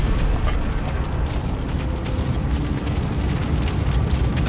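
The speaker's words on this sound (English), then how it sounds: "So there's a nice bright fire." A bright fire burning in the video game Shadow Warrior, heard as a dense, steady roaring crackle with small bursts throughout and no talking.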